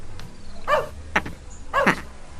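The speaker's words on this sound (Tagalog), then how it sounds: "At tataulan ti aso iti arubaya." A dog barks in a yard, giving about three distinct, fairly loud barks spaced over a couple of seconds against a low background hum.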